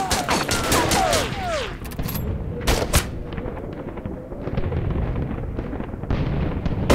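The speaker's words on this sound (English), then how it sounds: "Taking heavy fire!" Heavy gunfire in a war video game skirmish, with dense overlapping rifle and machine-gun shots, sharp cracks and whizzing rounds, and a few brief shouted voices.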